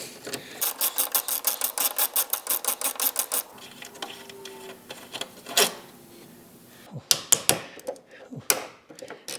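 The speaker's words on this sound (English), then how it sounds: "we're now going to remove these 2 bolts right here, and they're a T25" Ratcheting clicks from removing T25 bolts on a Porsche 911 Carrera (991.1) tail light, a rapid even series of sharp clicks, then scattered metallic knocks and handling sounds close by.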